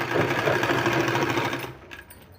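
Sewing machine stitching a white strip onto a kurta sleeve, a rapid even mechanical chatter close by that runs steadily and then stops abruptly.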